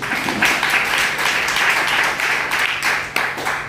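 A church congregation at a youth service claps together in a dense, sustained round of applause lasting the whole stretch, close and loud, with no voices over it.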